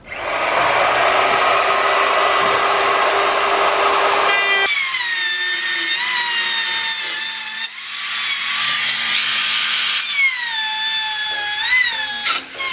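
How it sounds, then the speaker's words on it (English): Router cutting slots in pressure-treated 2x4s while subfloor is prepared and laid, a loud close high-pitched motor whine that shifts in pitch as the bit bites into the wood, continuous throughout with no voices. "Here I'm using the router to cut out slots in the pressure-treated 2x4s"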